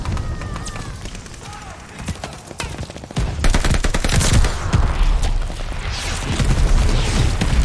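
Video game battlefield combat with dense gunfire bursts and mortar explosions, loud and continuous, with rapid automatic fire and heavy booms building after a quieter opening, and a voice talking over the action.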